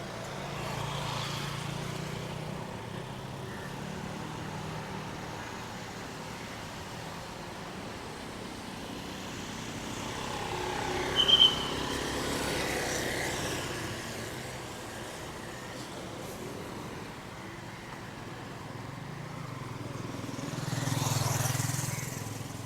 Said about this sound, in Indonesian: motor banyak banget